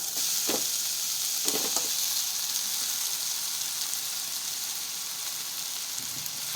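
Vegetables and cooked rice sevai sizzle and fry in a pan, a steady close hiss running throughout with a few brief stirring scrapes near the start.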